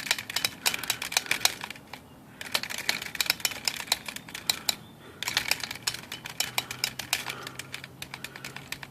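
An Underwood Remington Noiseless typewriter clacks through bursts of rapid type bar strikes, dense rhythmic tapping with two short pauses, close and fairly quiet with no talk.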